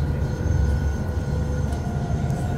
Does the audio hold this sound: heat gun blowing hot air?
no